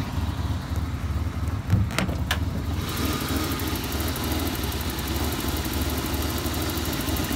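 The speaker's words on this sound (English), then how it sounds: "See how it sounds kind of dodgy, like real low idle." A 1988 Ford Ranger engine idles low and rough, suspected throttle position sensor fault, a steady close mechanical rumble with a few sharp knocks early on and no talk.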